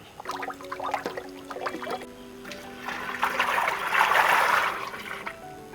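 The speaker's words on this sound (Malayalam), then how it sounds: "നമുക്കൊന്ന് മാവ് ഒഴിച്ച് കൊടുക്കാം." Flour batter poured into a pot of boiling water while making Kozhikode (Calicut) soft halwa: a few light clinks, then a swelling watery, hissing pour that peaks and fades, with no voices.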